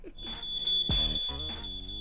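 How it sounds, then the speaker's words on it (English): Smoke alarm sounding a continuous high-pitched tone while a voice is heard over it, with some other sounds mixed in. "Man, who set off the smoke alarm?"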